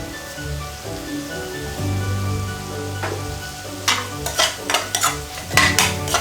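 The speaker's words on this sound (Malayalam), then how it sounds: "ഇനി സവാള ഒന്ന് നല്ലവണ്ണം വഴറ്റിയെടുക്കാം" Onions sauté in a pan for chicken puttu, a steady soft sizzle under a low hum, followed by several sharp scraping stirs of a spoon against the pan near the end.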